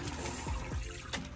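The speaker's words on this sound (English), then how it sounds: "you keep pouring out the water" Water sloshing and trickling as it is tipped out of a child's sand table emptied of sand, a brief, close, continuous splashing pour.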